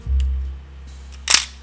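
A Nikon F3 camera gives a low mechanical thump from the advance, then a single sharp, close shutter release click near the end.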